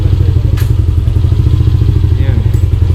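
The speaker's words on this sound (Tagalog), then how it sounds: "Kita nyo naman yung gigil ng motor." A superstock motorcycle engine running loud and close, a steady throbbing rumble with slight rhythmic pulsing rather than sharp revs, with voices faintly mixed in.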